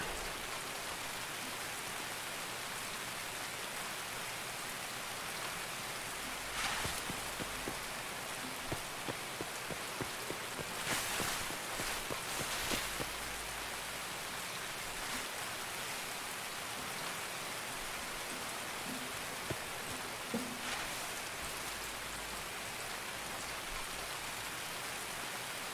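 Steady rain falls in Escape from Tarkov, a soft continuous hiss of drops on surfaces with scattered louder patters and occasional faint thumps, heard alone at low volume.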